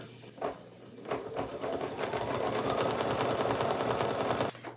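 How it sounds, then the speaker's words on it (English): A home embroidery machine stitches a Halloween treat bag in the hoop, its needle hammering in a fast, steady rhythm that runs loud and close for several seconds after a few brief taps. "And I can continue stitching."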